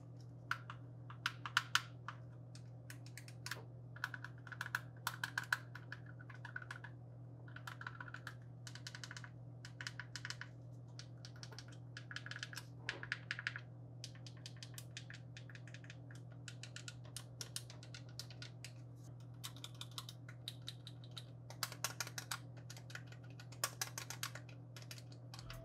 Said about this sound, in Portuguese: A partir de agora, eu vou apertar aqui todos os botões sem ficar falando muito